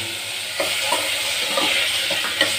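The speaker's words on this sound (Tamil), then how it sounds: "லைட்டாக எண்ணெய் ஊற்றி இது மூணையும் நல்லா வதக்கிட்டு" Tomato, onion and green chili sautéing in a little oil for idli sambar, a steady sizzle with soft stirring scrapes over it, close and continuous with no talk.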